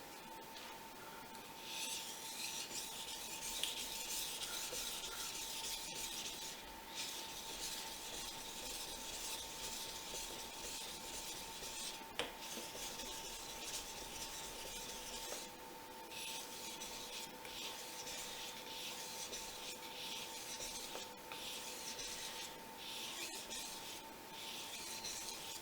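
Fujimoto Honesuki knife stroked across a Japanese waterstone, a steady continuous rubbing and scraping with brief pauses between passes, close and alone with a faint background hum.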